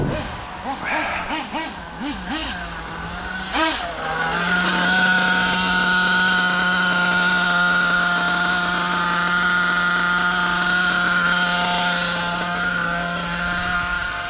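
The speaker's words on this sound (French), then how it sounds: "Ici on a du thermique, on a du Mugen qui roule." Nitro-powered Mugen RC car engine revving on an off-road track, a loud, steady high-pitched whine holding close to the listener after a few opening throttle blips.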